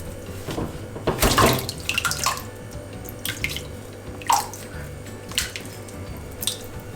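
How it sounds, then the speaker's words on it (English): Water from making halloumi drains through cheesecloth and a colander, trickling and splashing into a sink, with a few louder pours and drips against a steady running background. "It's going down through the cheesecloth, through the colander, and down the sink."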